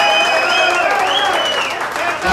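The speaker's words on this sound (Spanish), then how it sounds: "Denle un aplauso a Paco Lé" A crowd applauds for Paco Lé at a live event, a loud, continuous clapping that holds steady with whistles and cheers mixed in, then dips briefly near the end.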